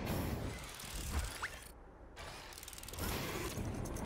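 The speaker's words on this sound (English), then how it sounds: "once I start turning on the chemistry lab to produce rubber, it will start the process" Chemistry lab machine in the game Astroneer running while producing rubber: steady mechanical whirring with ratcheting, gear-like clicks and a short quiet gap midway, no talking.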